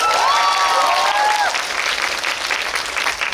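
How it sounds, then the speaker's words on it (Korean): Audience applause breaks out at a film talk event, dense steady clapping filling the hall throughout, with a few faint voices and scattered cheers mixed in near the start. "축하의 박수 한번 드릴까요?"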